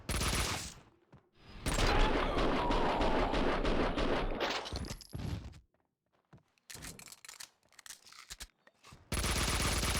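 Sustained bursts of gunfire in the shooter game Max Payne 2, from an attic fight, loud and dense for several seconds, then a near-silent gap broken by scattered sharper shots before another loud burst.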